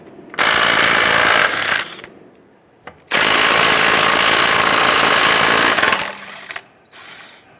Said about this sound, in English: Using our 21mm socket, we're going to go ahead and loosen and remove our lug nuts.